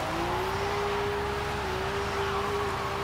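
A Toyota Soarer in Forza Horizon 5 holds a steady, sustained engine drone while drifting through a 360, with a faint tire hiss and no talking.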